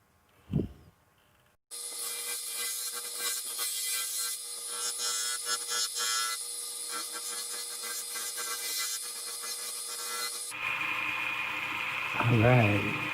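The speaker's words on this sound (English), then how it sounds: "This skew does not like segmented pieces at all." A skew chisel cuts a segmented cherry and spalted maple box on a wood lathe, giving a sustained scraping, chattering whir after a short knock at the start, shifting to a different rubbing tone near the end.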